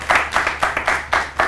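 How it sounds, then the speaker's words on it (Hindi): Studio audience applause on a morning television show, a short burst of brisk, close clapping in rhythmic pulses, no voices over it. "इनके लिए तालियां बजा दें।"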